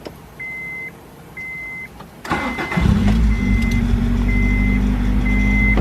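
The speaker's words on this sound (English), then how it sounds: "I'm gonna give you guys a startup, because remember I gave you a before, so I'm gonna give you guys an after." An Acura Integra fitted with a new full exhaust fires up after a few intermittent beeps, catching with a sharp crank and settling into a loud, steady idle close to the microphone.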